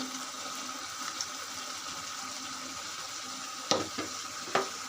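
Tangra fish going into a frying pan of sautéed vegetable stalks: steady sizzling hiss throughout, broken near the end by two or three sharp splashy spits as the fish land in the hot oil.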